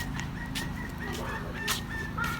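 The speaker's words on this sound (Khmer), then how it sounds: "ឡូវហ្នឹងយកទៅឲ្យមាន់ញ៉ាំ" Backyard chickens being fed kitchen scraps cluck on and off over a steady, noisy outdoor background, with occasional sharper calls rising above it.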